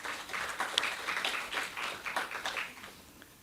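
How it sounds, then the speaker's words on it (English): An audience at a professional seminar on off-form concrete applauds a presenter, a soft, distant patter of many hands clapping steadily and then fading out. "So let's give him another round of applause."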